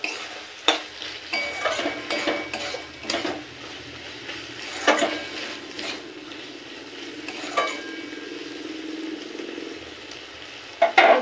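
Chana dal is stirred with spices in a pan for a soybean and potato curry, producing intermittent scraping strokes of a utensil over a soft sizzle and a few sharp clinks against the pan, with no speech.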